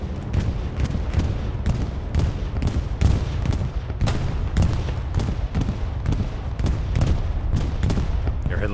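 Bomb run explosions in Hell Let Loose, a dense, steady string of rumbling blasts and booms going off in rapid succession for the whole stretch, with no talk over them.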